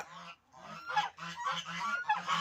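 A gander honks repeatedly up close, a run of loud nasal calls in quick succession after a brief opening pause.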